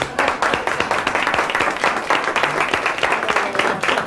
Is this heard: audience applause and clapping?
yes